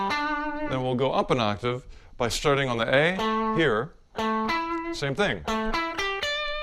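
Distorted electric guitar rings out a chord voiced in octaves, first low and then an octave higher starting on A, with sustained notes and bends, while someone talks over and between the phrases.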